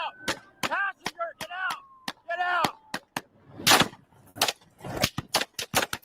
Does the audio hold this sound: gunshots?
yes